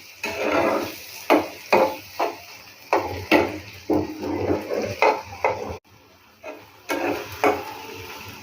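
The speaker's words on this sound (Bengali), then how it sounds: "কক্সবাজার থেকে আনা শুটকি রান্না করছি।" Dried shutki fish from Cox's Bazar cooking in a pan with onion, garlic, oil and spices: a spatula clatters and scrapes against the pan in about a dozen irregular, close strokes, with no talking.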